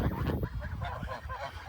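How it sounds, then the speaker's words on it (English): Domestic geese honk repeatedly at close range, a flock of grazing geese with goslings nearby giving loud, nasal, overlapping calls in quick succession. "And his brother Sugar is the one gray goose right above the goslings."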